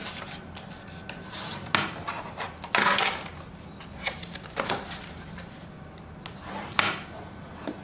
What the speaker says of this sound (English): I'm going to go ahead and fold. Give a nice fold.